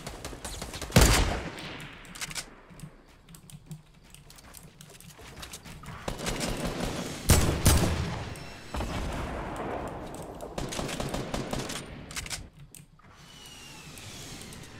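Rocket fire and explosions in a Fortnite Battle Royale match: loud, sharp blasts burst out around the first and seventh seconds amid a steady crackle of distant gunfire and rumbling impacts throughout.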